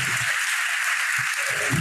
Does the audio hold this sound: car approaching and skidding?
no